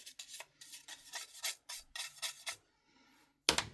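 A small cleaning tool scrubbing the wet-sanded primered body of a 1959 Mercedes 300 SL model car kit, close, quiet rhythmic rubbing strokes in short bursts, ending with a sharper scrape.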